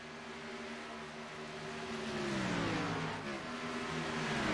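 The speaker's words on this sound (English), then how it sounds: "Cars stretched all the way around this track" Race cars lapping Chicagoland Speedway in a 100-lap race, a stack of engine tones rising and sweeping past as the pack passes, growing louder toward the end.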